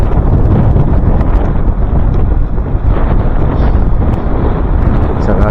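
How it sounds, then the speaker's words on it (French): Wind buffets the microphone during a group bike ride along a canal, a loud, constant low roar with rumbling gusts that masks almost everything else. "Un petit vent."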